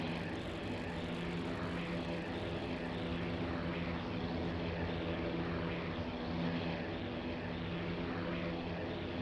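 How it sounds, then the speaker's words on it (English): Propeller engines of Hurricane and Bf 109 fighter planes drone steadily and without a break in a World War II air battle in IL-2 Sturmovik 1946, a fairly faint continuous roar. "More Hurricanes fighting BF-109s."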